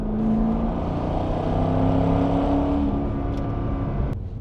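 A Corvette C6 with a 6-litre V8 holds a steady, loud, throaty drone at about 3000 rpm, close by and without speech, shifting briefly near the end.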